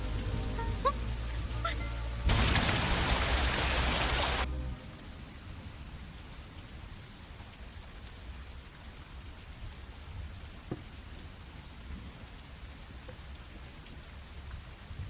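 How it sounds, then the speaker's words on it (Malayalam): Rain pours down in a burst of dense, loud hiss for about two seconds, then cuts off, leaving quiet ambience for the rest. "മഴ."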